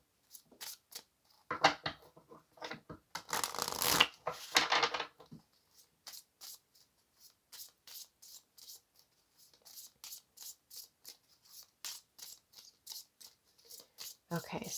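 Tarot cards being shuffled and handled, heard as short papery riffles and taps close by, with a louder flurry early on and then a steady run of light card flicks, no clear talking over them.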